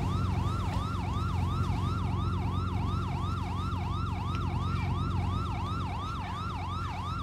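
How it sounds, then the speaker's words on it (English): A video game police siren wails, cycling up and down in a steady, repeating rhythm over a low engine hum, moderately loud and continuous. "Some of the sirens are still on."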